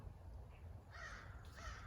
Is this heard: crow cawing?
yes